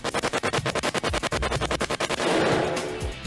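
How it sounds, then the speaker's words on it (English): An M16 rifle firing fully automatic, a rapid string of about two dozen loud, evenly spaced shots over two seconds, then a dense roar of echo and muzzle noise. "This is an M16. It fires fully automatic."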